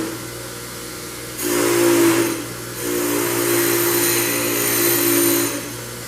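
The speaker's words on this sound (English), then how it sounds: "I'm going to hit this one with the wire wheel real quick" A wire wheel brushes a silicon bronze MIG weld in two loud, close bursts, the first about a second long and the second several seconds, each a steady whirring grind over a low motor hum.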